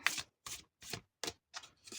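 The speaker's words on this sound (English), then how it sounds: "So I'm actually going to shuffle it like this right now." Tarot cards being shuffled by hand in six quick, papery bursts with short silent gaps between them, close up and fairly quiet, no voices.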